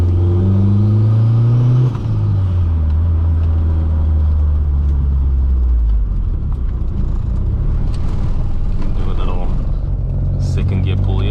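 Race car engine, a 16V turbo Mk2 GTS, pulling hard through second gear: a loud, close rising drone with a pitch sweep and a brief shift near the start, steady throughout under voices.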